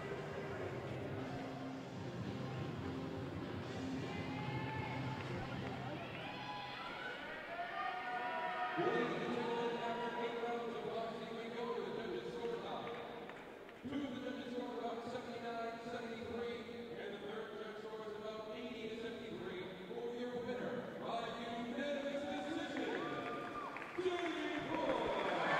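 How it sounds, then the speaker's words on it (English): Boxing arena crowd murmuring and cheering as official scorecards are announced after a unanimous decision, a continuous roar of many voices with an announcer's amplified voice over it. "The crowd responds to the official scorecards being read."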